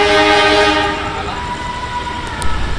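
A train hauled by a long-hood locomotive passes close by a station platform at night, its loud sustained horn sounding with steady harmonic tones that bend in pitch midway, over the rumble of the wagons and a brief clank near the end.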